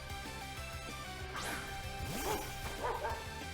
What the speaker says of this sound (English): Oh, it's a puppy.